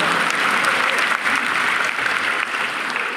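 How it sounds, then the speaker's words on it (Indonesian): A church congregation at a sermon in Indonesia breaks into steady, full applause, a dense wash of many hands clapping throughout with no break. "sekarang tepuk tangan dulu."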